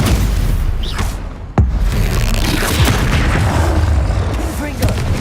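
A Confringo blasting spell in the Hogwarts Legacy video game goes off as one sharp, loud boom near the middle of the clip. It sits over a dense, steady bed of game sound, and a voice briefly talks through the scene.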